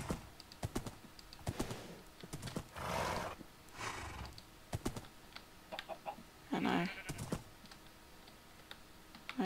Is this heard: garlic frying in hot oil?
no